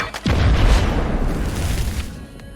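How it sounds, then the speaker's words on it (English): A grenade goes off in a multiplayer shooter video game with a deep booming blast, followed by a rumbling tail that fades over a couple of seconds. "Grenade out."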